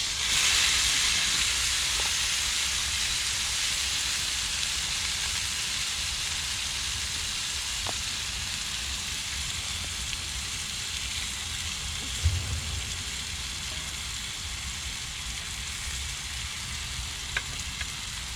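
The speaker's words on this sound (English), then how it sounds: "Lift that steak up, I'll put some juice under it, it'll cook properly" A steak sizzles in a pan over a camp stove outdoors, a steady hiss that fades slightly over time, broken by a few faint clicks and one short louder clatter, with no talking.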